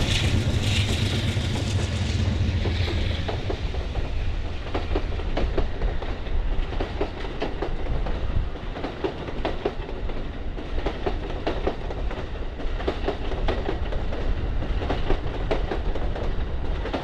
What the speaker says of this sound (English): the consist from the day's eastbound Empire Builder heads south for a spin on the Y